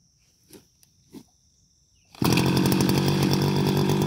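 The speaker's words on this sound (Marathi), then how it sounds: "बघा तुम्ही आता या मशीनने मी कसं गवत कापतो ते" A grass cutting machine starts up suddenly after a few faint sounds, then runs loud and close with a steady, buzzing engine roar on a mogra (jasmine) farm.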